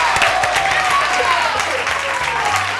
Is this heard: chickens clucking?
no